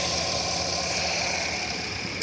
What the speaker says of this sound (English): Of course, you can hear the engine.